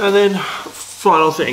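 Someone talks over a steady, soft sizzle of food frying in a pan in the background.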